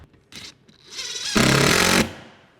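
Power driver fastening a screw into a pest guard mesh on a solar panel install, a short whirring run that rises to a loud buzzing burst of about a second before stopping.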